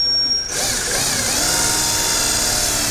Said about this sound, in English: Line it up just inside of that line and drill a hole.